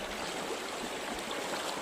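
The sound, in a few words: river stream water flowing during a river crossing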